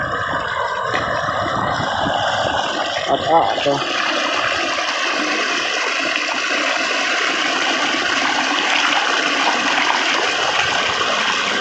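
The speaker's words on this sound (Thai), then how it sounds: "น้ำไหล" Water rushes steadily through a buried pipe in a rice field, a continuous loud gushing flow with a brief spoken word near the start.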